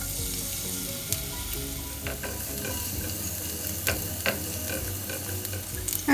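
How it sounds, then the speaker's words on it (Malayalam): Chopped garlic sizzling in olive oil in a pan, a steady close frying hiss broken by occasional sharp spatters and light stirring clicks, with no voices. "ഇതിലേക്ക് നമുക്ക് ചോപ്പ് ചെയ്ത് വെച്ചിട്ടുള്ള 2 വെളുത്തുള്ളിയാണ് ചേർക്കുന്നത്"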